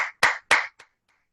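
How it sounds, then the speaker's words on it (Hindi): A few sharp handclaps, three strong and one lighter, from a participant unmuted on a Zoom call, then silence. "give a big applause, a big hand"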